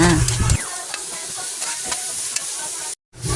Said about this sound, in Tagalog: igisa lang natin yung sibuyas at kamatis para lumabas talaga ang lasa